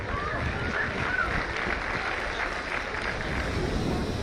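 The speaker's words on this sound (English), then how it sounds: "What a fantastic show. Give them a huge round of applause." Applause rises from an audience at a cadet college parents' day show, a dense steady wash of clapping from many hands that holds without a break.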